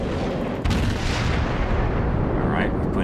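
Warship guns firing in World of Warships, a heavy cruiser Aoba facing a battleship, with a loud continuous rumble of booming naval salvos and a sharp report near the start.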